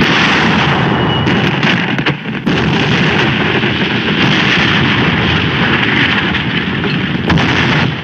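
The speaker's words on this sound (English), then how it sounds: "The artillery zeroed in on us." Artillery fire in a war film makes a loud, dense, continuous roar of booming blasts and rumble, with one brief dip before the barrage resumes, and no talk.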